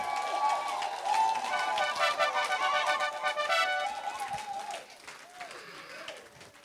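A church congregation applauds and cheers during a sermon, a dense wash of clapping mixed with raised voices that stays loud for several seconds, then thins and fades.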